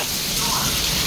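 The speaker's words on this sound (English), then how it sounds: "Look at the rain." Heavy rain pours down in a storm as a dense, steady broadband hiss that fills the whole moment, loud and close, with no clear voices over it.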